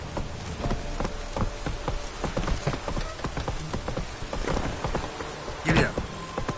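Horse hooves gallop at a quick, steady rhythm through rain in The Witcher 3: Wild Hunt, with a constant patter of rain and a low rumble of thunder beneath the clopping. A brief shout cuts in near the end.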